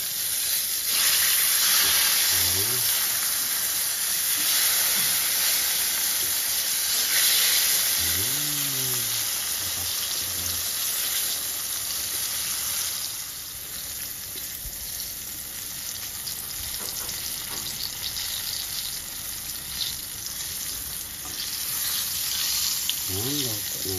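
Tortang talong, an eggplant omelette, frying in hot cooking oil in a pan; a steady, loud sizzle and hiss throughout, with a few brief voices talking faintly in the background.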